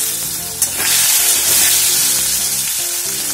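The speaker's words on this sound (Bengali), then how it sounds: "চিংড়ি মাছ দিলাম" Shrimp drop into a pan of frying potatoes, and a loud, steady sizzle and crackle of hot oil fills the clip, with a brief stir near the start.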